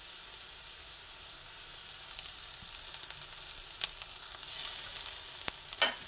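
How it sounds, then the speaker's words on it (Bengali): Ginger fries in a pan with onions already browning. It gives a constant bright sizzle, close and even, broken by a couple of brief scraping stirs near the middle and end. "আদা দিয়ে দিলাম, আদাটাও অল্প ভেজে নিচ্ছি"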